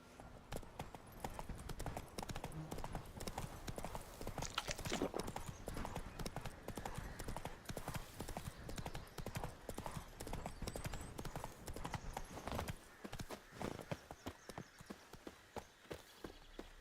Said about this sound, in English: That's it, Roach.